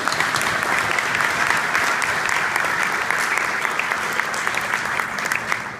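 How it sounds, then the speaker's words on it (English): A large audience bursts into sustained applause, dense and even clapping filling the room for several seconds with no break. "This deserves an applause,"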